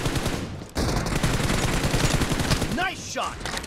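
Rapid gunfire in PUBG Mobile team deathmatch: a dense, loud, continuous stream of shots that breaks off briefly, then resumes, with faint voice chirps near the end.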